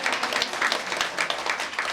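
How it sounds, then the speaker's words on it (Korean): Congregation applause in a church service, a dense steady patter of many hands clapping that fills the whole moment at moderate loudness. "우리 권사님 장로님 우리 박수 한번"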